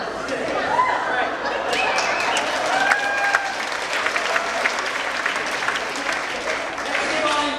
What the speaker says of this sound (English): Let's give all you guys a round of applause.